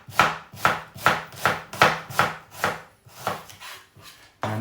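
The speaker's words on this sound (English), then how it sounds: "all we're now going to do is just slice these into half moons" A knife slices vegetables into half moons on a chopping board in a steady, even rhythm of about nine close, crisp cuts, followed by a louder noise at the very end.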